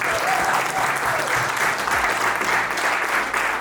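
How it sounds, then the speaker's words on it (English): A crowd at a sales mastermind event in Milan claps and cheers in a loud, dense, continuous burst of applause. "We got like a round of applause for Chris"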